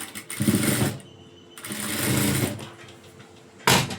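A sewing machine stitches a folded blouse hem in short bursts: a fast whirring run, a pause, a longer steady run, then a brief final burst, all close and loud.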